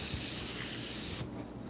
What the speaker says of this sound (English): Now I'm going to spray it